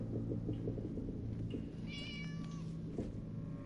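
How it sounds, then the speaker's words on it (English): A cat meows in Minecraft: Story Mode, a short rising cry standing clearly above a low steady rumble of background noise. "Is that a cat?"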